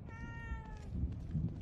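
A cat in The Evil Within 2 video game gives a single clear, drawn-out meow that fades under low background game ambience.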